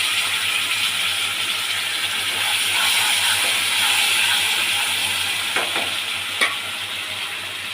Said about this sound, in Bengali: এই যে পেঁয়াজ একটু ফোড়নে দিয়েছি, পেঁয়াজ ফোড়নটা হয়ে গেছে, এবার আমি মশলাটাকে দিয়ে দেবো।